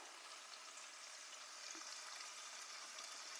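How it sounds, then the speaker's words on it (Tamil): Chopped tomatoes sautéing in a pan for Madurai roadside-stall chicken salna, giving a steady, faint, even sizzle that runs unbroken without any talking. "இந்த தக்காளி சாஃப்ட் ஆகிற வரைக்கும் நல்லா வதக்கி விட்டுக்கோங்க."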